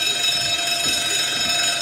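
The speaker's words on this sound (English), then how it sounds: "the alarm will be the continuous ringing of bells" A steady, continuous electric alarm bell ringing without pause, loud and close, with a bright metallic tone filling the whole clip.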